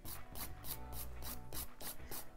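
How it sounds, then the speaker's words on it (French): Nail file rasping back and forth over a gel fingernail in close, rhythmic strokes, about eight quick scratchy passes in a row with no talking. "Donc, du coup, je relime un petit coup."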